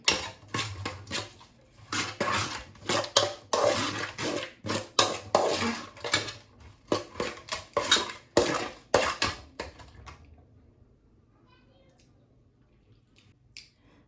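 Seasoning cube, spice and salt mixed together in a bowl for abacha African salad, giving a steady run of quick clicking and scraping strokes at close range that stop toward the end, leaving near silence.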